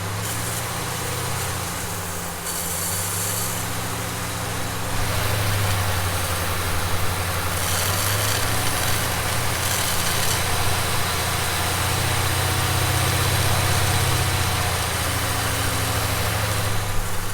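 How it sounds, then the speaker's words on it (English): A 2016 Ram 1500 Rebel pickup truck engine runs loudly and steadily close by, idling with a rough low rumble, then its pitch rises a little as it is revved. "he's revving the engine"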